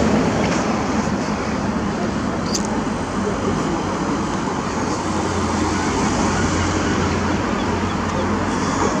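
Cars pass along a town street in Dingwall, Ross-shire, a steady wash of nearby traffic rumble that goes on throughout, with a voice talking faintly over it.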